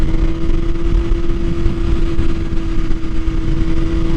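A BMW S1000RR motorcycle with an Akrapovic Evolution exhaust idles close by, a loud, steady, rough drone with a strong constant hum and no revving.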